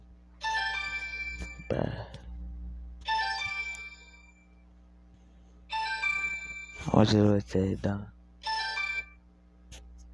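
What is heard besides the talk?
phone ringtone, dad's phone ringing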